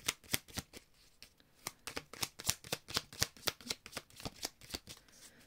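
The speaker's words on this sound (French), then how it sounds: "Je vais mélanger un peu mieux." Tarot cards being shuffled close up, a quick run of crisp slaps and riffles in an uneven rhythm, alone with no talking.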